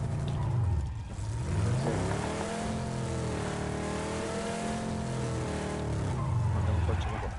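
A car engine in the video game PUBG, a continuous droning motor that rises and falls in pitch as the vehicle accelerates and shifts, steady and fairly loud under someone speaking.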